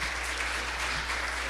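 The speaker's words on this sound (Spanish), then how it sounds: "le pedimos un aplauso" Audience applause at a book presentation during a national book fair, a steady, dense wash of many hands clapping in a hall, moderately loud throughout with no pauses.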